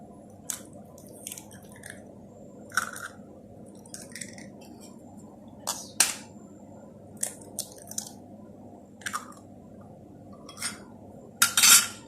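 Eggs whisked in a bowl for chocolate cake batter: irregular light clinks and wet taps of a utensil against the bowl, spaced a second or so apart over a quiet hum.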